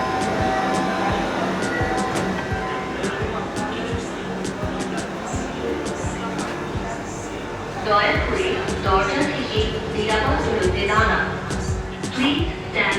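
A Dhaka metro rail train rumbles and hums steadily at a station, with clicks and mechanical tones and a louder surge partway through, while people talk nearby.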